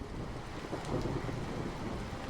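Heavy rain pours down steadily in an animated cartoon scene, a dense, continuous broadband hiss with a low rumbling undertone, heard alone without voices.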